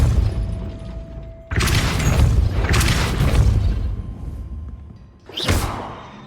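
In the game Hogwarts Legacy, a Depulso spell strikes a mechanism to raise a gate, producing two heavy booming thuds with mechanical rumble, then a sharp whooshing burst near the end.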